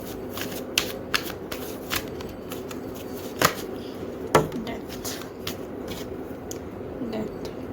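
Tarot cards are shuffled close by with soft riffling and a string of sharp card slaps, a few louder snaps standing out, then one card is pulled, all with no talking.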